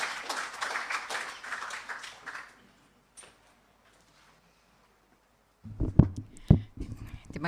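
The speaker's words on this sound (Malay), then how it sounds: "Sila berikan tepukan gemuruh buat Puan Zahra" An audience at a formal gathering gives a woman a round of applause that fades out after a couple of seconds. Near silence follows, then thumps and a voice near a microphone.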